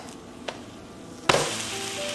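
A vegan grilled cheese sandwich is flipped in a hot pan, and a loud, bright sizzle bursts in abruptly partway through, then holds steady and close after a quiet stretch with one faint tap.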